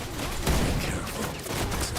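Gunfire in the online shooter Wild Assault, a steady dense crackle of shots and combat noise with a louder burst near the middle, continuous throughout.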